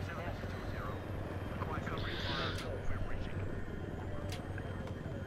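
An attack helicopter in Battlefield 3 thrums with a steady rotor and engine drone throughout, mixed with battle noise, while people talk over it.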